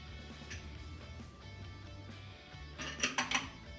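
A lid lifted off a pot of brinjal and potato curry in a home kitchen, giving a short cluster of metallic clinks and scrapes near the end over a low background hum.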